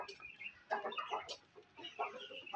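Aseel chickens give soft, short clucks in a few quick bursts, faint and close in a quiet yard setting.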